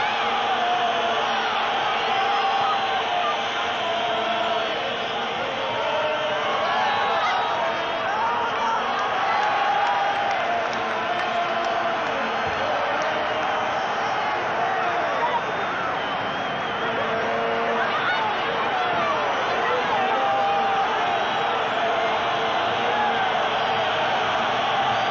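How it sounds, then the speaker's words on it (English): Large football stadium crowd at a 1987 European Cup quarter-final second leg in Madrid, urging the referee to blow the final whistle: a sustained, dense roar of thousands of voices, with swelling chants and whistles, continuing without a break. "Crowd urging the referee to blow the final whistle"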